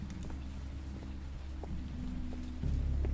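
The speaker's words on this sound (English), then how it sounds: "It's raining." Rain pattering steadily in a horror video game over a deep rumbling drone that swells louder near the end, like distant thunder.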